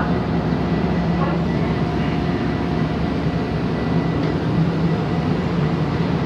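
A TRE commuter train idles at a station platform just before departure, giving off a steady, fairly loud broadband rumble and hiss with no distinct changes throughout.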